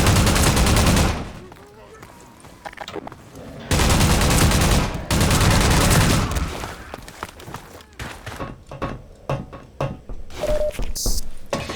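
Gunfire in Half-Life 2 with Chaos Mod: loud sustained bursts of shots in two long volleys, followed by a rapid series of scattered, punchy single shots and impacts.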